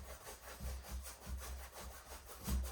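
Gesso is rubbed lightly over a wet canvas painting surface in a soft, rhythmic back-and-forth scrubbing, faint and close, with about seven even strokes and no talk.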